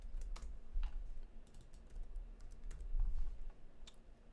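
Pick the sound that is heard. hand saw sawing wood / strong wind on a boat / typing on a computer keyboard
typing on a computer keyboard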